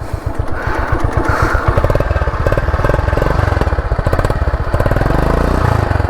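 A Yamaha Crux motorcycle engine with a modified exhaust idles close by with a loud, uneven, throaty exhaust putter, pulsing rapidly and steadily throughout.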